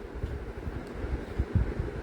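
Outdoor wind at night beside a village dam field, a steady low rushing buffet against the microphone with small gusty swells and no voices.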